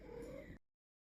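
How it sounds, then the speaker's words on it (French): A cat meows in the background of a home, a brief muffled call within steady noise that then cuts off abruptly into silence. "le chat, justement, celui qui miaule là en arrière-plan"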